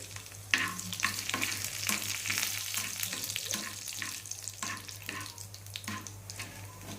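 Garlic and dried red chillies fry in hot oil in a pan for horse gram rasam, a steady close sizzle with the scrape and clatter of stirring throughout.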